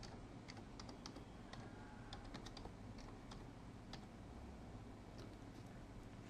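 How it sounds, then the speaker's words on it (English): Someone types on a computer keyboard in quick irregular bursts of faint key clicks over a quiet room hiss, with short pauses between words. "Type Central Park in point A."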